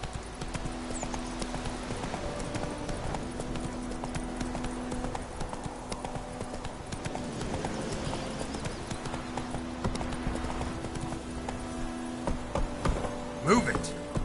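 Roach the horse trots along in The Witcher 3, hooves clip-clopping in a steady rhythm over game ambience, with a muffled voice in the background.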